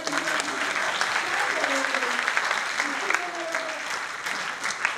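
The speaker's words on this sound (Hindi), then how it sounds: "अरे ताली बजाओ ना यार।" Audience applause at a university lecture, a sustained burst of clapping from a crowd lasting several seconds, with faint voices and a few sharper claps standing out.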